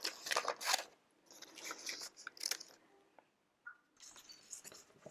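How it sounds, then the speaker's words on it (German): Crisp snipping and crunching of scissors cutting paper, several quick cuts in bursts with short pauses, close and fairly quiet. "ich nehme ein Stück Papier und ich schneide das Papier."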